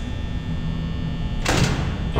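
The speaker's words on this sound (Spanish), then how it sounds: "¡Oh, cierra la puerta! ¡Cierra la puerta" In Five Nights at Freddy's, a security door slams shut with a short, loud metallic rush over a steady electrical hum.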